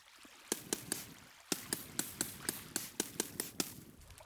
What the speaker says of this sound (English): So place 1 water here and another one here, and that should run all the way down.